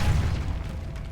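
A Depulso spell goes off in Hogwarts Legacy as a single deep, close boom whose low rumble fades over about a second.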